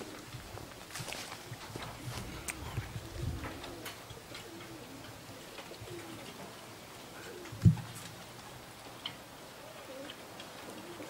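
Racing pigeons coo softly on the arrival of a pigeon race at a loft in Kosakowo, with low, repeated coos, light footsteps and ticking sounds, and a single sharp knock partway through.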